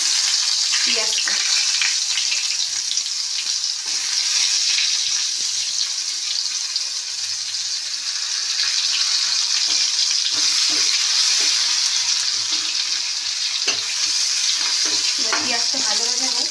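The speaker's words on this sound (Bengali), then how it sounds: "এবার এর মধ্যে দিয়ে দেবো পেঁয়াজটা।" Onion frying in hot oil in a pan after potatoes were fried in it, a steady loud sizzle running throughout with occasional stirring scrapes and brief faint voice.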